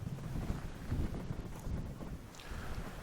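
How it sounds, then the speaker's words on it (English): Gusty wind buffets a parked camper van in a storm in the Scottish Borders, a low rumbling roar with rising and falling gusts close to the microphone. "The wind's picking up already. We can feel the van moving around."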